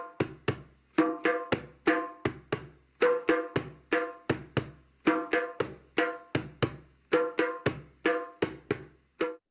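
A hand drum plays a repeating earth rhythm of deep bass strokes and ringing open tones in grouped patterns, close and resonant, steady throughout with no voices.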